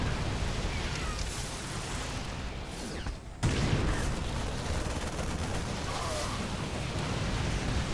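A Widow Mine detonation in StarCraft 2 during a Terran versus Zerg match, a dense, roaring blast with a sharp thump around the middle, set against continuous battle noise and no voices.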